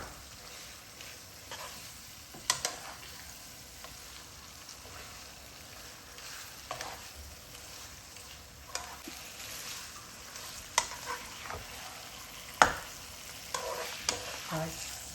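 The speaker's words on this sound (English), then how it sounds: "we're just going to give it a good mix, coat all the spices" Spices being stirred through frying chicken korma in a pan, a steady sizzle with scraping spoon strokes and sharper clinks at irregular intervals, close and alone with no speech.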